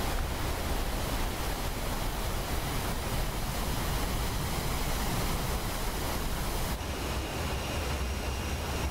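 A waterfall roars in a Final Fantasy XII cutscene, a steady, dense wash of rushing water noise that fills the whole stretch at an even level and eases slightly near the end.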